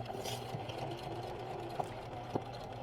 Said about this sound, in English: first we're going to start sewing